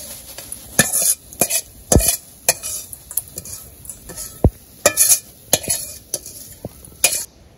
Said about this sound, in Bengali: আমার মাছ ভাজা হয়ে গেছে পেঁয়াজ দিয়ে কাঁচামরিচ দিয়ে ভাজলাম